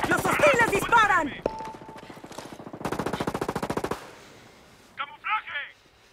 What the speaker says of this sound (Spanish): ¡Los hostiles disparan!